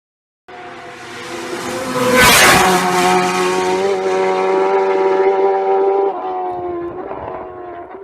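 Race motorcycles on the road during Isle of Man TT practice roar past close by, a loud rising engine howl that peaks as a machine passes, then holds a high sustained drone before fading into another bike's note.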